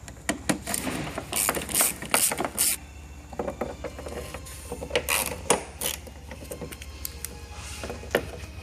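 Ratchet loosening headlight bolts on a BMW E46 330i/325i sedan, irregular bursts of close clicking with scattered metallic knocks and pauses between strokes, no voices.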